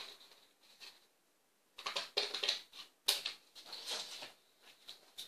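Scissors snip through glittered paper while a greeting card is being made. A quiet stretch gives way to a run of crisp, close-up crunching snips and clicks at an uneven pace.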